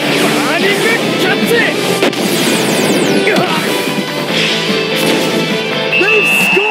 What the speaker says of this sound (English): Blaze with an incredible shot.